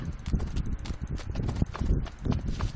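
Hoofed footsteps of a wild boar in the video game Eternal Return, a quick, busy patter of clopping steps mixed with other game noise, close and fairly loud throughout.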